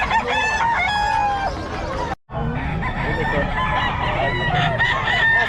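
Roosters crow repeatedly and chickens cluck at a busy poultry market in Bocaue, loud and close, with overlapping calls and a brief gap partway through.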